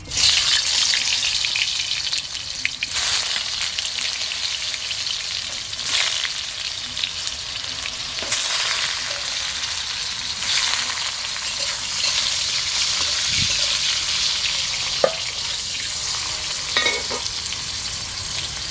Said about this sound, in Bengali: নুন হলুদ দিয়ে আলুটাকে ভাজবো